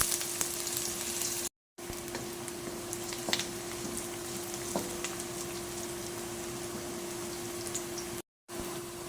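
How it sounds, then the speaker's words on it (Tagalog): Garlic and onion sautéing in oil as the base for Spanish callos, a continuous close crackling sizzle with occasional stirring clicks, running alone without talk apart from two brief dropouts. "Mag-isa lang tayo ng ating bawang at sibuyas."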